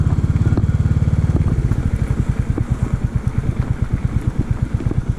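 Royal Enfield single-cylinder motorcycle engine idling up close, a loud, even thumping pulse that slows slightly after the first second and keeps a steady chugging beat to the end.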